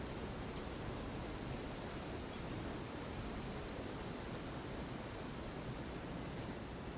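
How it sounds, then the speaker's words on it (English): A waterfall in the Guild Wars 2 game roars as a steady, dense rush of broadband noise, constant and unbroken throughout, with no voices over it. "Waterfalls sure be noisy."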